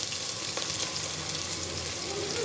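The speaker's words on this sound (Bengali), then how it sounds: "পেঁয়াজ দিয়ে দিলাম," Onions dropped into hot oil in a pot while cooking a Bangladeshi vegetable dish, giving a steady, broad sizzle that stays even and close throughout, with no voices.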